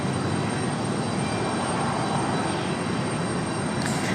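An airliner going around at Raleigh Durham airport amid wind shear alerts, a loud, steady broadband engine roar and rushing wind that hold for the whole stretch with no voices.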